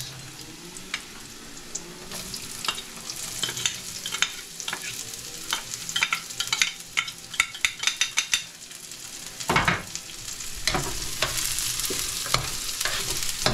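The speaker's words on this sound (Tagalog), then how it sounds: "mekos-mekos na natin hanggat maluto" Chicken adobo with onion frying in a pan while being stirred, a continuous close sizzle crowded with rapid metallic scrapes and clatters of the spoon, growing busier and louder midway.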